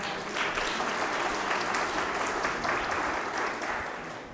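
A congregation at an Emmaus growth prayer retreat in Ernakulam claps together in a loud, even wash of applause that tapers off slightly at the end.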